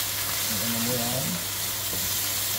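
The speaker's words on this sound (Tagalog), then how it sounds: "Igisa mo yan ng igisa." Chicken feet sautéing in a pan give off a steady, close sizzle and hiss of frying, with a brief murmur of voice partway through.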